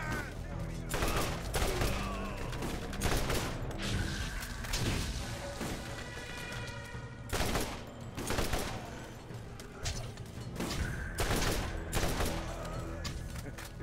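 A shotgun fires repeatedly in the video game Borderlands, loud booming blasts spaced every second or so amid dense game noise and impacts, with a player talking between shots.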